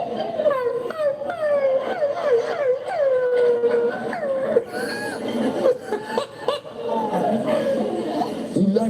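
A person imitates a dog with a run of yelping, howl-like cries that rise and fall, mixed with laughter and chatter from others nearby.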